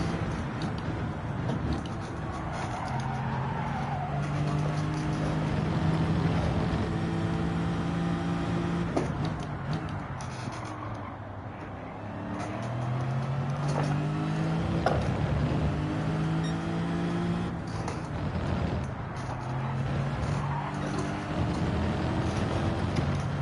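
A car engine in Gran Turismo 7 during BTCC touring car practice, revs rising and falling through repeated gear changes at a steady moderate level, with no talk.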